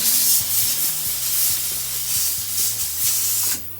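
Jewelry steam cleaner blasting a sterling silver pin, a loud, continuous high-pitched hiss held close throughout, with low machine hum underneath and a slight drop at the end.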